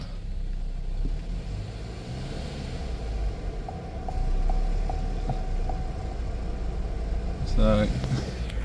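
A Holden Captiva engine idles with a low steady rumble, with faint rhythmic ticking and a brief louder clatter near the end; the engine has variable valve timing faults (codes P0010 to P0013).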